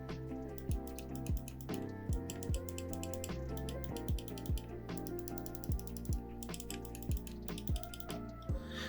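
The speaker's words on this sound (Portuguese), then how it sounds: "os botões dele aqui são cliques com switches" Buttons on a Gamesir Cyclone 2 controller, which are mechanical switches, pressed in a steady series of crisp clicks at roughly half-second intervals, close and alone over faint background.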